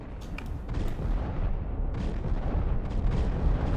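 Fuel rod weapon impacts in a sci-fi shooter video game, a continuous loud rumble of booming blasts with sharp crackling bursts layered over dense low-end thunder.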